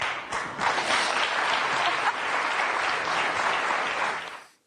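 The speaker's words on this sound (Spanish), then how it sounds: "Hay gente que se ríe, aplaude" A crowd applauding, dense sustained clapping that starts abruptly, holds steady and loud, then fades out at the end; no clear laughter stands out.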